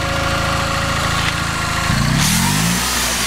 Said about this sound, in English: your engine automatically revs up to supply the energy.